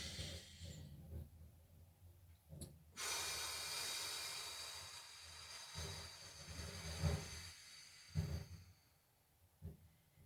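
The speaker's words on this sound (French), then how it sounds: "Inspirez par le nez, ouvrez-moi tout ça." A person draws a deep breath in through the nose during a guided relaxation exercise, one long hissing inhale followed by softer breaths and a few light bumps, quiet and close with no talking.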